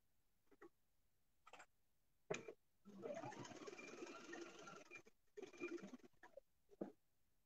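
A sewing machine stitching a patchwork pocket, a few short bursts at first and then one steady whirring run of several seconds, followed by more brief stop-start bursts, fairly quiet and close.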